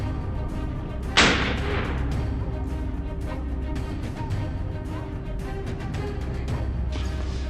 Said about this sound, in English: The gunshot echoed as the bullet struck its hip, sending it crashing to the ground.